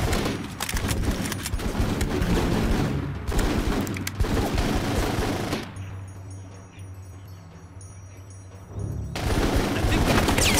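Sustained gunfire in the 2004 military game Full Spectrum Warrior, dense rapid bursts and booms filling most of the clip, with a brief quieter lull before the firing resumes loudly; voices are faintly present.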